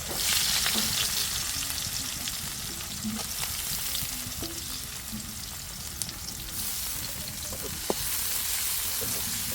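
Onion goes into a pan of hot oil just used for frying fish, giving a loud, steady crackling sizzle throughout, with a few faint stirring clinks and no talk over it.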